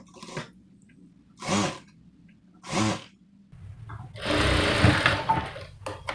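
A domestic sewing machine stitches a kurti's star neckline with a feeding zip, running in short bursts at first, then in a longer, louder continuous run toward the end, with no voices.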